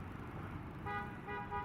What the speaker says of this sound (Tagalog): Ayan sobrang traffic talaga, may linyado.